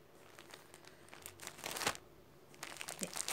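Crinkly wrapping on a shipping package delivered by PTT cargo being opened by hand, soft irregular crackles swelling into louder bursts, close and quiet with no talk.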